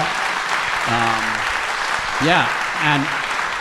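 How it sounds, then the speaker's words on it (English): Audience applause for panelists at a founders' event, a steady dense wash of clapping throughout with voices talking and calling out over it. "I would just like you all to give a very warm round of applause for our panelists here and for all of you."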